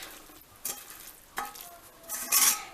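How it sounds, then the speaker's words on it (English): Meat being stirred into rinsed rice in a pot for stuffed grape leaves, with several separate scraping, clattering bursts of mixing close by and no talk. "Go ahead and add your meat into the rice."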